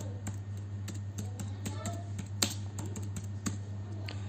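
Keys tapped at a computer keyboard while HTML code is typed, a quiet run of irregular clicks with a few sharper strokes over a steady low hum.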